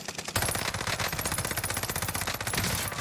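Rapid automatic gunfire from a weapon in Call of Duty Warzone, a dense, continuous burst of shots that stays loud and close for about three seconds, starting after a short quiet moment.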